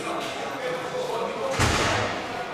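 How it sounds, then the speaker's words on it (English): A heavy prison door slams with a single sharp, loud bang partway through, set against a steady hum of background noise inside the jail. "That noise, the banging door, the alarm bells."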